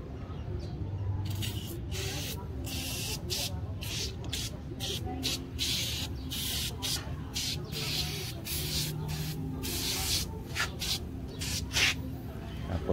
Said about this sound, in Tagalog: isprayhan itong tire foam cleaner